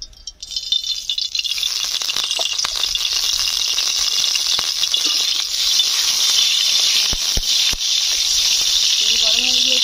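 Oil poured into a hot pan before frying crab, a loud steady sizzling hiss that builds and holds close to the mic, with a few sharp clicks and a brief voice near the end.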